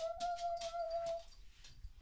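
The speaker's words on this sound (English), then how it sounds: "You need to be quiet. Right, puppy?" A puppy lets out a thin, high, drawn-out whimper that wavers and fades after about a second, followed by softer rustling and faint yips close by.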